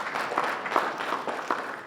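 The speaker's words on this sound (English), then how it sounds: "I'm not used to being interrupted by clapping." An audience applauds during a political speech by a commentator to a conservative crowd, a brief burst of steady clapping with a faint murmur of voices underneath.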